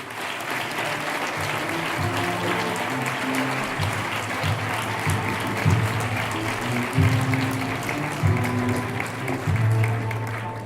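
An audience claps steadily for about ten seconds at a Holy Week proclamation event in Jódar, a sustained, even wash of applause with a few louder swells and no pause.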